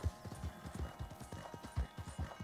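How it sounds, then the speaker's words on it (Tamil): Horse hooves pound in a steady galloping clip-clop in Red Dead Redemption 2, the rhythmic thuds continuous and fairly close, faint under game ambience. "நம்ம குதிரை இந்த மாதிரி இடத்தெல்லாம் சூப்பராக ஓடுது."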